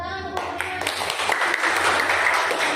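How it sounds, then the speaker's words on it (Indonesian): Classroom audience clapping for a group of students, the applause starting after a brief opening sound and building into a steady patter of many hands that runs to the end. "Ayo tepuk tangan kelompok"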